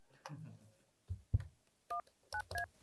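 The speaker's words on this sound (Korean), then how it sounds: "그걸 위해서 제가 전화를 한번 걸어봐야 되는데요" A telephone is dialed to place a call. A few soft handling clicks come first, then a series of short, bright keypad tones in quick irregular succession, close and clear, with no speech.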